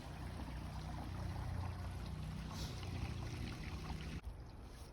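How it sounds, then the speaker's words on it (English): Continuous gushing gray water drains through a sewer hose, a low steady rumble that cuts off abruptly near the end. "when you hear the gray water has finished draining out"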